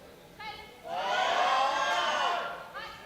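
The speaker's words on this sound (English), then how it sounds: "you can see the roar of the crowd to urge Aliska" A crowd at a junior classic powerlifting championship roars loudly for a lifter, swelling into a sustained cheer for about two seconds, with some voices shouting over it.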